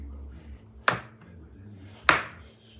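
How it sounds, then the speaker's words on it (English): A knife cuts into a hand-held coconut with two crisp, sharp chops about a second apart, close and clear over a low background hum. "hold it in your hand and make these cuts"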